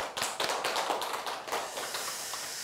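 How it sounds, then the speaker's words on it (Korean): A church congregation at a Sunday worship service gives a warm round of applause, dense overlapping clapping that stays fairly steady and close before easing slightly. "다시 한번 격려의 박수 부탁드립니다"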